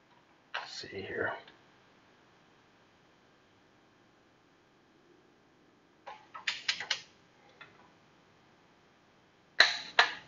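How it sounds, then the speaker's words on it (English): Torque wrench tightening a spark plug, with a few short bursts of ratcheting clicks separated by quiet pauses, close and fairly soft, ending in a sharp click. "you'll hear it click once it reaches the 20 foot-pounds of torque that we have it set to"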